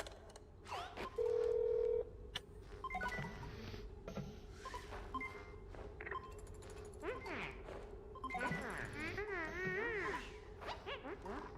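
Electronic telephone tones from the Oxygen Not Included space-colony game, a steady beep followed by warbling ringtone-like chirps, sitting over a busy bed of game sounds and music.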